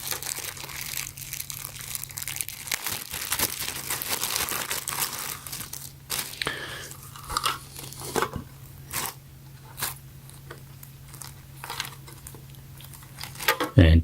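A plastic Ziploc bag holding a battery power bank case crinkles and crackles up close in irregular bursts, with a spoken voice over the handling noise.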